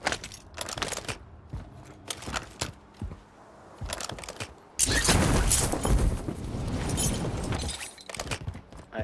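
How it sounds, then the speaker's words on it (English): Gunfire in a Call of Duty match, from in front of the player among buildings: scattered sharp clicks and bangs, then a dense, loud stretch of crackling shots that tails off into a few more isolated cracks. "I just heard some gunfire right in front"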